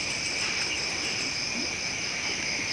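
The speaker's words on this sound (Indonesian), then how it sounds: "itu mau kodok sawah" A steady chorus of rice field frogs calls outdoors beside a riverside path, a continuous, even trilling drone that holds at the same level throughout with no talk over it.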